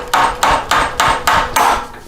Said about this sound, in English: And then if you take a hammer,